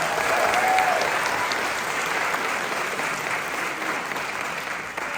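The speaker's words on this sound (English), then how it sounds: "Could we give them a nice round of applause?" Theater audience at the Coleman Theater in Oklahoma clapping in a sustained, even round of applause, dense and moderately loud, fading slightly toward the end.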